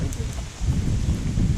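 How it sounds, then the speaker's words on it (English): Steady rain falls in a continuous soft hiss at a riverside camp by a grill, a constant wash with no talk. "So we got some rain."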